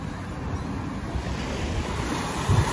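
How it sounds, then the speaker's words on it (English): Ocean waves wash onto a beach in Barbados in a continuous rushing surf, with gusty wind buffeting the microphone and a slightly louder swell near the end, no voices. "Listening to the waves is a way of interacting with nature."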